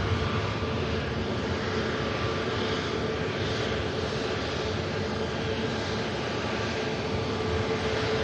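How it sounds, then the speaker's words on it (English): A 27-year-old Embraer ERJ regional jet, operated by Loganair, lining up at Manchester Airport for departure to Newquay, its engines giving a steady, sustained whine and roar at moderate distance with no voices. "27-year-old Embraer ERJ next to go."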